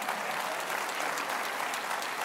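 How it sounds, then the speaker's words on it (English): A church congregation claps its hands in praise during a sermon, a dense, even wash of applause that holds at steady volume throughout with no talking over it. "clap your hands and give God praise."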